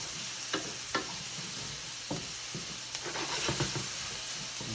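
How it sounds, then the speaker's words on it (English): Onions softening in a pan give off a steady low sizzle, broken by a few light scraping taps as they are moved around, close and quiet, with no voices. "Then we're going to add in the onions."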